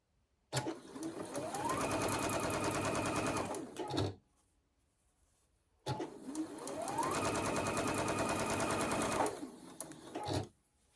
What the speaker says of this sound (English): so we're just going to sew each end.